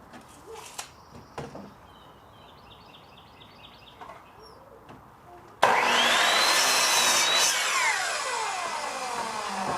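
After several seconds of quiet outdoor ambience with birds, a saw bites loudly into pallet wood being cut into corner pieces for a raised bed, droning continuously and close until the end.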